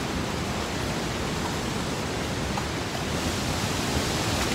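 A waterfall in the North Carolina mountains roars as a steady, broad rush of falling water, constant and fairly loud, with no voices.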